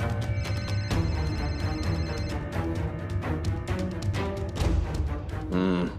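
A telephone rings with an incoming call, its tonal ringtone sounding steadily through a dense musical backdrop, near and fairly loud.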